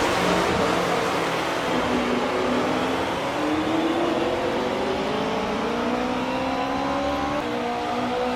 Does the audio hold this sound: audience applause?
no